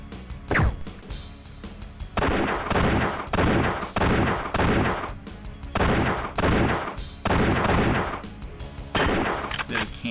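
Gunfire blasts from the 1996 arcade light gun game Lethal Justice come in loud, sustained bursts separated by short gaps, with an initial sharp sweep before the shooting starts.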